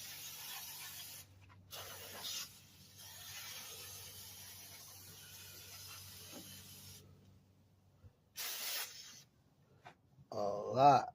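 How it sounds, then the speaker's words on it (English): An aerosol or spray cleaner hisses in short bursts onto a greasy car power steering line, the sprays separated by pauses, with mechanical handling noises and a few louder scrapes near the end. "Yeah, all that grease, we're gonna try to spray that down"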